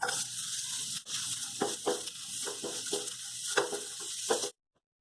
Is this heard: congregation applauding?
no